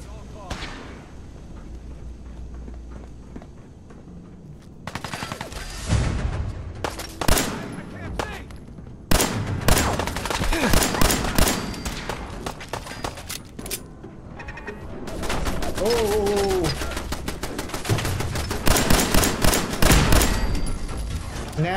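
Gunfire rings out in a Fallout 4 survival playthrough: repeated loud bursts and rapid volleys of shots crack in clusters across the stretch, with brief pauses between them and some voices under the shooting.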